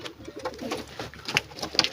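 A pet pigeon coos close by, low throaty calls pulsing in quick succession with a few sharper chirps and rustles. Nobody talks over the bird.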